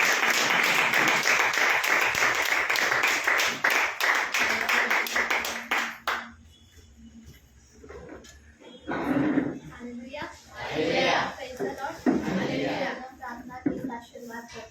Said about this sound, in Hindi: आप सभी लोग बड़े तालियों के साथ उनका स्वागत करें